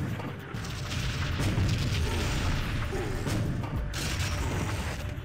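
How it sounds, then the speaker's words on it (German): Grenade explosions in TimeSplitters 2 during a fight with a golem in Aztec ruins, heard as dense rumbling blasts and mechanical clatter filling the whole moment, with faint voices underneath. "Granaten sind effektiv gegen Golems."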